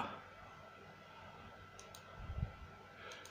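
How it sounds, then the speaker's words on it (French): A laser engraver homes to its center position with a short, soft mechanical burst of motor movement partway through, over a low steady background hum. "On a entendu le graveur qui s'est centré"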